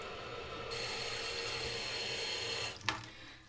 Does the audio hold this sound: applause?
no